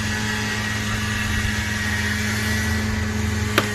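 Steady mid-pitched engine drone of a lawn mower cutting grass outside, heard from a distance with an even, continuous hum and a single brief click near the end.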